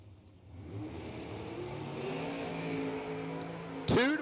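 Drag race at a Mutt and Jeff Promotions event: a dial dragster towed by Seward and a Pro Charged car idle and build as a sustained loud engine drone, then a sharp, very loud revving burst sweeps up near the end.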